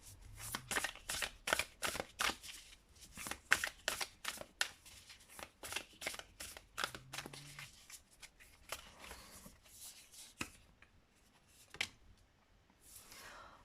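Tarot cards being shuffled by hand, with repeated close, crisp riffling and slapping bursts in an irregular rhythm that thin out toward the end, with no speech over them.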